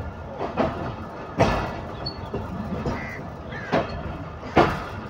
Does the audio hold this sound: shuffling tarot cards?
no